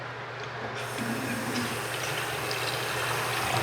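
Hot water pours steadily from a bathroom tap, a constant close hiss and rush of flowing water with a low hum beneath and no speech.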